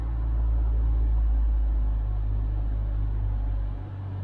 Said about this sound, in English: The car's like revving down now.